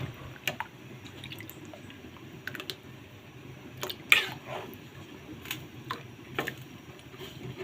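Pork and vegetable laing stirred in a cooking pot: scattered soft scraping clicks and wet squishes at an irregular pace, quiet and close, with no talk.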